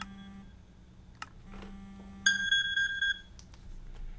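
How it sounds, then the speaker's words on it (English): Game timer chiming in a Minecraft modpack session: a steady low tone, then a bright cluster of high electronic beeps, followed by a few short blips, close and clear with no talking. "Oops, there's my timer."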